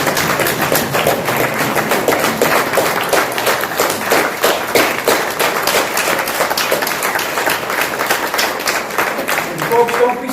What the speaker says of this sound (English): I want to clap for Tina.